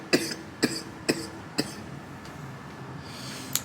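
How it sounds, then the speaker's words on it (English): Four evenly spaced, sharp coughs from a person recovering from illness, close and fairly quiet, followed by a pause and one more cough at the end. "Still the end of the residual cough from when I was sick."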